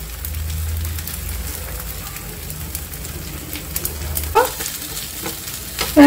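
Dosa batter frying in a spoonful of oil drizzled around its edge on a pan, giving a soft steady sizzle with a low hum early on, then a few sharper scraping clicks near the end.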